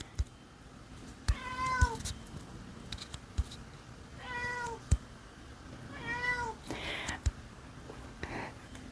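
A pet cat meows several times indoors, drawn-out close calls spaced a couple of seconds apart over soft handling clicks and faint background noise.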